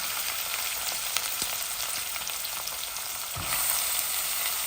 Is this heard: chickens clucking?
no